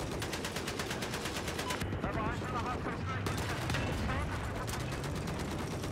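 Rapid automatic gunfire in the shooter game Battlefield 4, dense sustained bursts with brief gaps, loud and continuous throughout, with players talking over the shooting.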